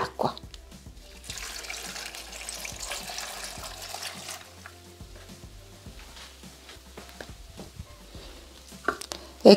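Water pours steadily into a Thermomix bowl over potatoes, pepper, salt and stock cube for fennel soup, a continuous splashing, faucet-like stream that runs close and moderate for several seconds before thinning out.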